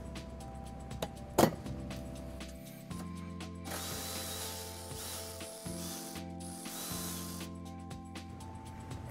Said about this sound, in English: we're gonna remove this screw using a 12 millimeter socket